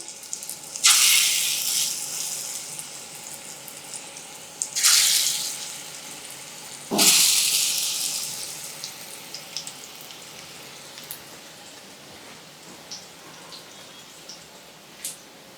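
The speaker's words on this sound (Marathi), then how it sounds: "खालच्या बाजूने खरपूस होईपर्यंत हे तळून घ्यायचं." Pieces of coated paneer are laid into very hot oil, each setting off a sharp, bright sizzle that bursts up and then settles into a softer crackle, three distinct bursts, close up.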